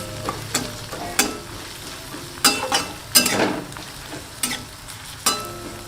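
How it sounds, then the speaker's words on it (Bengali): Beans fry in a pan with a close, steady sizzle, broken by repeated spatula scrapes and pushes at an uneven, unhurried rhythm. "এইখানটাতে ভাজা করছি আমি বিনস"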